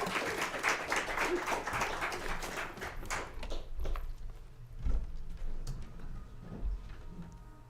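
An audience applauds after a band's song, loud dense clapping at first that thins out into scattered claps and a few louder single claps before fading.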